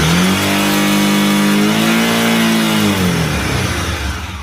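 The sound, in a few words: motorcycle engine revving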